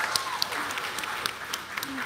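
An audience claps for a panel at a summit, a short burst of scattered applause with a cheer, while people talk over it.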